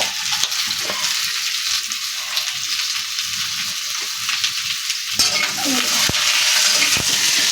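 Potatoes fry dry in a pan before any oil is added, a continuous close crackle and sizzle with light scraping stirs throughout.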